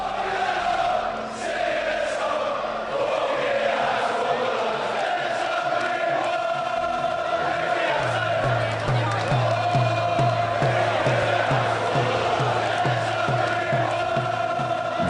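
A boxing arena crowd, almost entirely cheering for Ricky Hatton at his fight against Floyd Mayweather, roars loudly and continuously, with chanting and a steady rhythmic pounding beat joining in halfway through.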